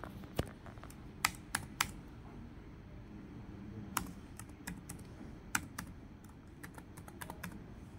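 A password is typed on a computer keyboard while deactivating a Facebook account, with sharp, close key clicks landing in irregular bursts over a quiet background.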